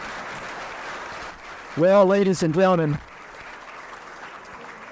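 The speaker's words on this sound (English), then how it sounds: "And I'll give this panel a round of applause first." Audience applause for a panel discussion on name, image and likeness in collegiate sports, a broad steady clapping that runs before and after a voice briefly speaking over it.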